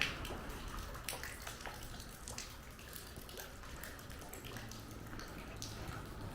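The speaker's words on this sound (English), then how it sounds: "Water just raining down from a drain pipe that was never connected." Water splashing and trickling steadily from an unconnected drain pipe onto the ground at an abandoned factory, a faint continuous patter with scattered drips nearby.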